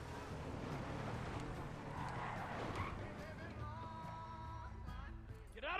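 A car skids with tyres squealing in the video game GTA 5, a rising screech near the end over a steady drone of engine and game noise.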